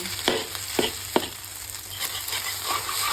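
Egg stir-frying in a wok for pad thai, a close, steady sizzle broken by a few sharp scrapes and taps of the spatula, with no talking.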